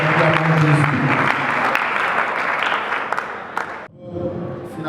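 A church congregation applauds and cheers together at a memorial tribute, a dense, steady wash of clapping mixed with voices that fades briefly near the end, then picks up again more softly.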